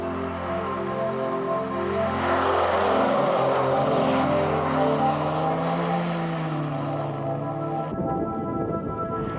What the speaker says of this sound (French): La mythique DB5 de 30 ans d'âge se tire pas mal du rythme musclé que lui impose le pilote.